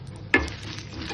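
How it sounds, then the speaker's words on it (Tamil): Curd rice being stirred and mixed in a pot for a one-pot lunch, with one sharp scrape of the spoon followed by soft, steady mixing noise, close by and with no talking. "இது தயிர் சாதம் கலக்கிறதுக்கு."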